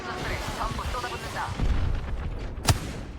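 Gunfire in the Apex Legends shooter game comes as dull booming rumbles, followed by one sharp, loud shot near the end.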